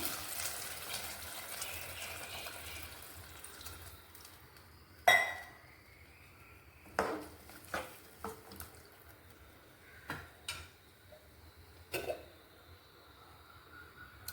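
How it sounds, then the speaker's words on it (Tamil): Water is poured into a pan of vegetables cooking for a vegetable kurma, a soft steady splashing at first, then a few sharp clinks and knocks of utensils against the pot, with no talking. "நனைகிற அளவுக்கு தண்ணி ஊற்றிக்கலாம் கொஞ்சம்."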